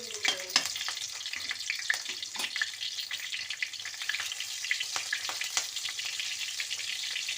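Two green chillies fry in a pan for veg hakka noodles, a soft constant sizzle with sharp crackles and spits scattered throughout, fairly quiet and close.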